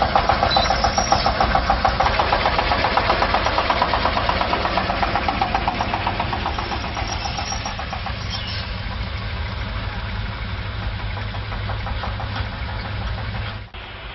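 A tractor engine runs steadily near a rural Chinese farm field, its low idling rumble continuous and fairly loud throughout, with no voices.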